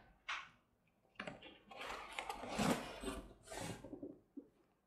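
The cardboard box of an Asus V161GART all-in-one touchscreen PC being opened: close scraping, rustling and tearing of cardboard in irregular bursts, with no talk.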